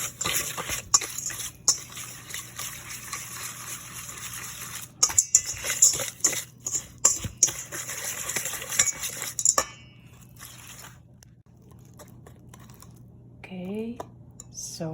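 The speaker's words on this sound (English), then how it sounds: "Then we're going to whisk it all." A whisk beating a milk filling mixture in a bowl for Spanish bread, rapid clicking taps against the bowl for about ten seconds, then quieter handling with a brief voice near the end.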